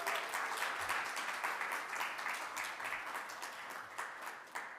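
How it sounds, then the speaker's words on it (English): Audience applause at a business event in St. Maarten, a steady dense wash of clapping from a crowd that carries on throughout without talk. "can I get a better applause?"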